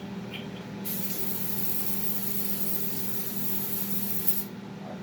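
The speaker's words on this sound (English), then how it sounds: "spray it off real quick. Brake clean." An aerosol can of brake cleaner sprays onto an engine camshaft in one continuous hissing burst of about four seconds, close and fairly loud, with a low engine-like hum behind it.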